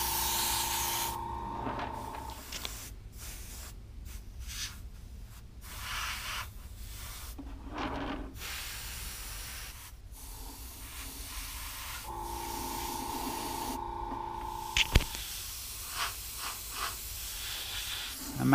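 An airbrush or spray can sprays gray paint over the primed base of a Hulk figure, giving a faint, intermittent hiss in several bursts and pauses with a low background hum and a sharp click near the end.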